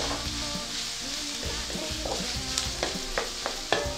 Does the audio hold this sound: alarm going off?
no